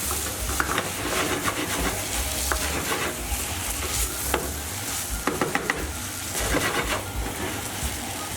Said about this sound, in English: You don't want to go on a low heat, we want to fry this.